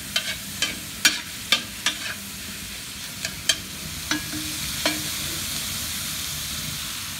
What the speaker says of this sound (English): Alright, we'll take this sausage, we'll stir it around. Brown the sausage down.